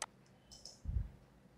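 Computer mouse clicks while drawing rectangles in Creo sketching software: a sharp click at the start, another light tick partway through, then a soft low thump, all faint and isolated with no voice.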